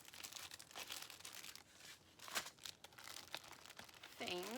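Plastic packaging on cross-stitch kits crinkles and rustles in irregular bursts throughout, fairly close, with a short voice near the end.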